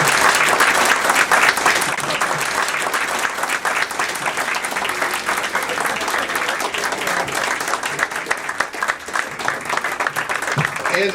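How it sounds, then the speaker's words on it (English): A crowd gives sustained, dense applause after a speech, loud and continuous hand clapping that holds steady for several seconds before easing slightly toward the end. "We're going to applaud you."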